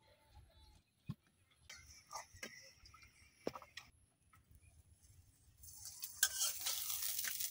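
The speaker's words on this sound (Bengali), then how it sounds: "তো কড়াইয়ের মধ্যে পরোটা গুলা ভাজতেছি একদম অল্প তেলে" Parathas frying with very little oil in a kadai over a clay stove: faint scattered clicks and taps give way to a growing hiss of sizzling near the end, quiet and close.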